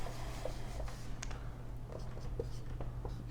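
Chalk or marker taps and scratches on a board during a physics lesson, heard as faint, scattered short strokes over a low steady hum in a quiet room.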